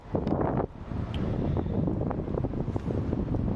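Heavy wind buffets the microphone, a continuous low rumbling roar with gusty surges and no clear voices.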